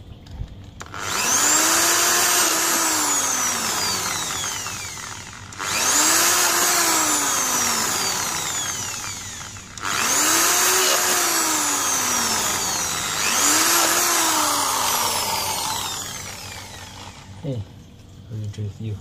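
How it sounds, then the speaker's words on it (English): A power drill bores holes into a pipe to make an aquaponics saddle valve, running in four loud sustained bursts of several seconds each, separated by brief pauses, with the motor pitch dipping as the bit bites. "See, let's drill few holes."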